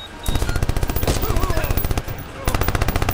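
Rapid automatic gunfire from the Watch Dogs video game on PS3, sustained loud bursts of evenly spaced shots with a brief pause before firing resumes.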